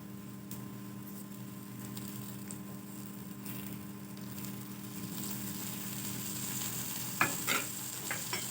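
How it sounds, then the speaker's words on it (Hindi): A paratha sizzles and fries on a pan with oil and butter, a low, steady hiss over a constant hum, with a couple of sharper crackles near the end. "तो सबसे पहले हम इस पर थोड़ा सा ऑयल लगाएंगे और फिर इसके साथ मक्खन लगाएंगे।"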